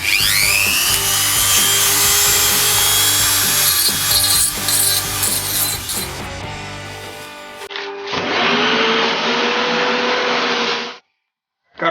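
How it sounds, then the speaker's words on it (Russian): An angle grinder or sander cuts a hole through a coconut shell for a pen and pencil stand, a loud, continuous abrasive whine with harsh rasping that pauses briefly, resumes with a steadier pitch, then stops. "Есть такая у меня шлифмашинка, вот с помощью нее и будем сейчас выпиливать отверстие."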